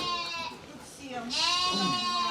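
Several sheep bleat in wavering, overlapping calls on a farm, fairly close, with some background noise around them.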